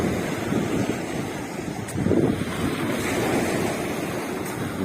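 Wind buffets the microphone on a Turkish beach in November while sea waves rush and surge steadily onto the shore, a loud continuous roar with a brief swell near the middle.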